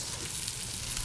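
Mushrooms browning to golden in a pan give a steady, even sizzle and hiss that stays close and continuous, with no voices over it.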